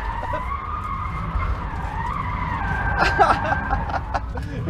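A Rimac Nevera electric hypercar drifts with its tires skidding, a sustained wavering screech that swells toward the end, loud and close, with no engine roar beneath and brief talk and laughter.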